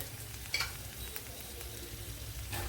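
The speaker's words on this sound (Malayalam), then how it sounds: "കുറച്ച് കടുക് ഇട്ട് കൊടുക്കുക. അതേപോലെ ഒരു 1/4 ടീസ്പൂൺ ജീരകം കൂടെ ചേർത്ത് കൊടുക്കാം." Mustard seeds and cumin frying in hot oil in a pan, a quiet, steady crackling sizzle with a few faint pops scattered through it, heard alone with no talk.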